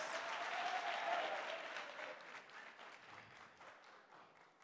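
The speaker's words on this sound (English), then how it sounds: "Hand this gentleman the goodies, the awards for his good work. Clap for him, please." Sustained applause from an audience at a regional award ceremony, dense steady clapping that gradually fades over a few seconds with no speech over it.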